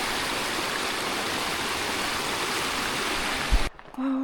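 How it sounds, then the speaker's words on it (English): Steady rushing and babbling of a small stream, close and continuous, ending with a brief rustle and a low hum. "I actually already hear water somewhere. There is a little stream down here."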